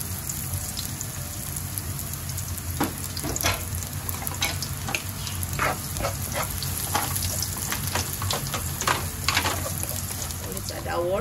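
Garlic frying in hot oil in a home kitchen while making sweet Filipino spaghetti sauce, a steady close sizzle with scattered crackles and pops throughout, and no talking.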